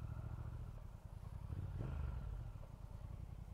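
A motorcycle with a cable clutch pulling away in first gear, low engine chugging at close range that swells briefly as it moves off, then settles to a rough idle-like rumble, no speech.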